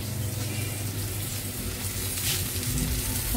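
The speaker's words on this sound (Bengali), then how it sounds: "আর এখানে আমার মাছ ভাজা হচ্ছে" Fish fries in a pan in a home kitchen, giving a steady, dense sizzle that carries on without a break throughout, fairly loud and close, with no talk.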